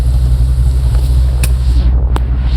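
A 1972 Pontiac LeMans pro-touring car idles with a lumpy cam, giving a steady, close low rumble with an uneven pulse and a couple of brief higher clicks over it.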